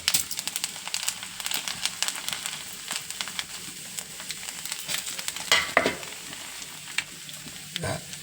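Rice grains popping and sizzling in hot coconut oil in a pan, a steady frying crackle with scattered sharper pops and a few stirring scrapes, fairly close and with no talk.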